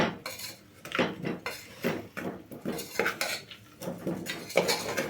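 A ladle scrapes and clinks against a pan while stirring sweet potatoes cooked in ghee and jaggery, giving repeated irregular metallic scrapes and knocks at close range with no talk.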